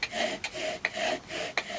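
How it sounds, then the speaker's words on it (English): Stone Age bow drill rubbing wood on wood to make fire, a steady rhythmic rasping back-and-forth stroke repeated about four times, close and fairly loud, with no talking. "And he invented the bow drill, not a matter of brute force,"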